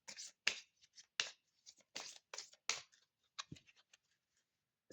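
Tarot cards are handled and drawn from a deck in a series of close, crisp snaps and slides with short pauses between them, no talking.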